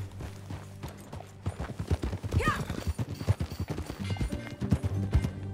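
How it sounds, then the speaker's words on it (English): Horse hooves clip-clopping at a steady riding pace in the video game Red Dead Redemption 2, close and rhythmic, with a brief horse whinny and a short spoken word. "Follow me. Let's ride."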